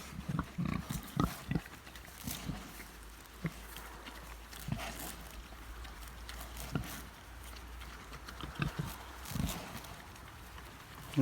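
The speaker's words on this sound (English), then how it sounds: "Pigs do eat grass." Free-range pigs grunt and snort while grazing on grass at a farm, with scattered close grunts and rustling over a quiet outdoor background.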